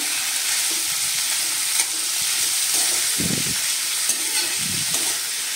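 Chickpeas, soaked peanuts, carrot and field beans being stirred through hot oil in a pan, a steady soft sizzle with a few louder scraping stirs near the middle and end, no voices.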